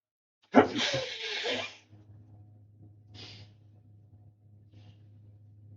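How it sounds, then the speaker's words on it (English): A single loud sneeze bursts out close by, followed by a short sniff and a faint breath against a low steady hum. "I'm going to sneeze."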